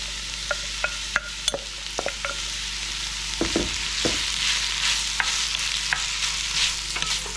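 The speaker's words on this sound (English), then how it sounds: "Let's put our veggies in there. Oh yeah, that's what you want to hear. Sizzle, sizzle." Vegetables sizzle steadily in hot oil, a bright continuous hiss broken by occasional scraping stirs and light clinks of a utensil against the pan.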